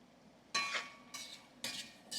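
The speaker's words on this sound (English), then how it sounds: "Frying up nicely." Ackee dish frying in a pan for a Jamaican home-cooked meal, with three distinct bursts of stirring and sizzling scrapes, close and fairly quiet, separated by brief lulls.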